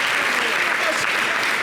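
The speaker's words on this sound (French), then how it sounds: "Bon, je n'ai pas compris les applaudissements." Audience applause in a French-language television studio, a brief continuous burst of clapping that stays level and close throughout.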